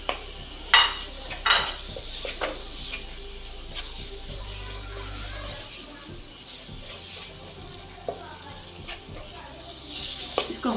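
Small chicken pieces frying in a pan for a spicy chicken spaghetti, a steady low sizzle with occasional stirring clicks and scrapes, close by, with no one talking.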